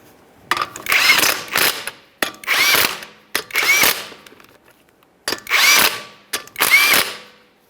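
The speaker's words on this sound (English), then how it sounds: "Start on all 5 of our 19mm lug nuts" An impact power tool works 19mm lug nuts on a Ford Fusion wheel in five loud, close bursts of whirring and rattling separated by short silent pauses.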